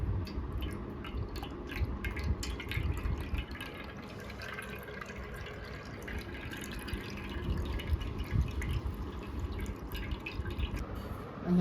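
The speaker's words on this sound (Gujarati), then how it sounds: "જેથી મેથીમાં રહેલું એક્સ્ટ્રા પાણી બધું નીતરી જાય" Soaked fenugreek seeds drain in a sieve as the excess water trickles and drips through, a steady, close, fairly quiet patter of droplets and small splashes running without pause and with no voices.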